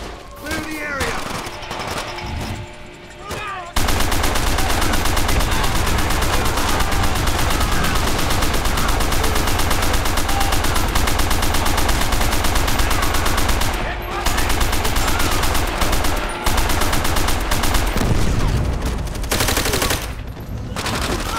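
Sustained, loud machine gun fire in Call of Duty: World at War, a dense continuous barrage of rapid shots lasting most of the stretch with brief breaks, mixed with battle noise and soldiers shouting.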